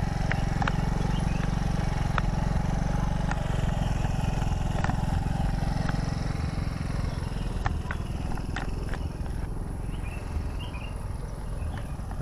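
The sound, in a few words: motorcycle engine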